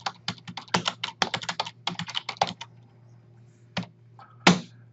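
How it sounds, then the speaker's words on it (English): Typing on a computer keyboard while setting up a Facebook page: rapid bursts of clicky keystrokes for about three seconds, then a pause and a couple of isolated key taps, close and clear with no talk. "Then you're going to type in your name."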